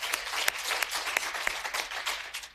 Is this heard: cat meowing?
no